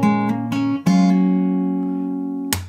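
A song is played slowly on fingerstyle guitar: a few plucked notes and a fuller strum that rings out and decays, then another sharp strum at the end.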